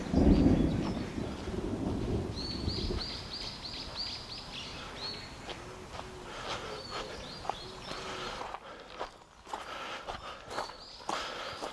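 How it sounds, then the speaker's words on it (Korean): A deep rumble of thunder rolls loudly for a few seconds over a campsite in heavy rain, then fades into a steady hiss of rainfall with scattered sharp taps and faint high chirps. "천둥 쳤어."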